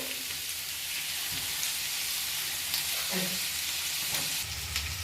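Onions frying in a pan for butter paneer masala, a steady close sizzle with occasional stirring scrapes and soft background noise.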